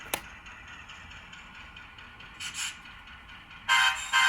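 A small model railroad locomotive hums steadily along the track, with a couple of short horn toots near the end.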